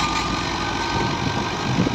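A New Holland 640 tractor engine runs steadily during wheat harvest in Punjab, Pakistan, giving a continuous, fairly loud low rumble with no talk over it.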